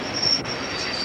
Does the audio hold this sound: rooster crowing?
no